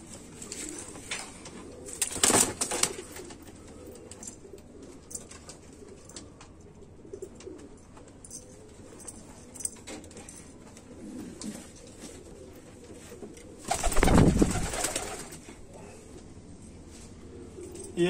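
Racing pigeons coo softly and steadily in a loft, with two louder bursts of sound rising over the low murmur.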